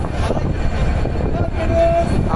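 Cox's Bazar Express locomotive idling at a station platform, a steady close diesel rumble with a thin tonal hum rising briefly near the end.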